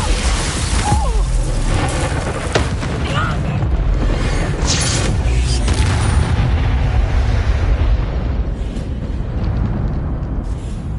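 Spell blasts and impacts in the video game Hogwarts Legacy, with dense, loud booming rumbles and bursts filling the stretch, mixed with game sounds and a brief voice.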